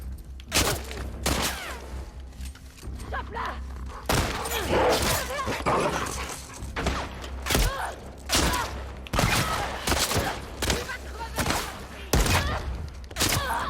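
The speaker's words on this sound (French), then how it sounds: "Je sais, un fusil à pompe c'est pour le corps à corps." Pump-action shotgun gunfire in a video game rings out as a series of sharp, loud blasts at irregular intervals, mixed with game sound effects and brief talk in between.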